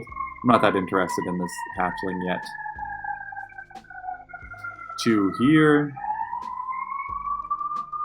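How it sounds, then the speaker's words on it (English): A siren wails outside in the background, a long, sustained tone that slowly shifts pitch while someone talks over it in the foreground. "Apologies if you can hear sirens in the background."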